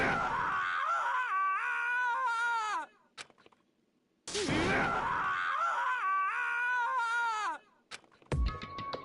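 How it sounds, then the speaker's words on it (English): Two long, wavering screams from the Danganronpa video game, each lasting a few seconds with a short gap between them, loud and anguished, followed by brief clicks and a sustained tone. "screams invaded our skulls"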